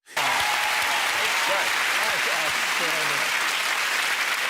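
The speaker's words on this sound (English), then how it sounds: "The crowd and guests cheer as Seth finishes the impression with energy." A studio crowd and guests at a celebrity impression show burst into loud, sustained applause and cheering that starts abruptly and carries on with scattered shouts.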